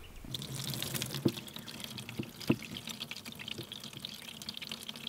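Cold water running from a tap at an off-grid solar container home, a steady close wash with a few sharper splashes or drips standing out.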